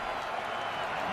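A steady, dense roar from a packed stadium crowd at an NFL game between the Dallas Cowboys and the Kansas City Chiefs, holding a constant level from start to finish.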